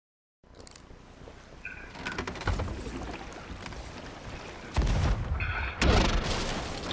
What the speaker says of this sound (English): I hear how they are destroying my ship.